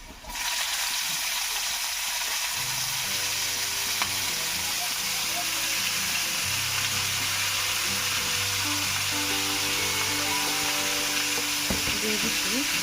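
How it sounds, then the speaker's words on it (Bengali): Bitter gourd with onions fries in a pan, a loud continuous sizzle with scraping stir strokes that runs steadily throughout, close and alone. "এখন করলাটা দিয়ে দিব, ভাজি দিয়ে দিব"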